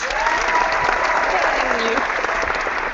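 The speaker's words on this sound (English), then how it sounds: "Everybody, give Serena a round of applause." An audience claps and cheers in a continuous, loud burst of applause at a live comedy show, a dense wash of hands filling the whole moment.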